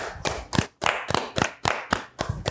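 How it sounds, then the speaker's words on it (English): A single person claps on a podcast set, about nine close, loud, separate claps in an uneven rhythm with short gaps between them, and no talking. "All right, I'll clap."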